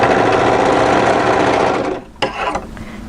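A sewing machine stitches a seam on a pleated maxi wrap dress with a loud, close, steady whirring hum, then stops abruptly, followed by a short clunk and some faint handling noises.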